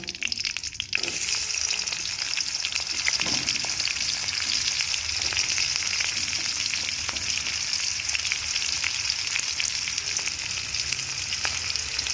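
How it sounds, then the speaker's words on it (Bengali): Chopped onions sizzle steadily in a hot pan for a banana-stem (thor) dish. A brief stir opens the frying, then a loud, continuous hiss and crackle runs close up with no voices. "এরপর একটু ভালো করে আমি এই পেঁয়াজ কুচিগুলো ভেজে নেব"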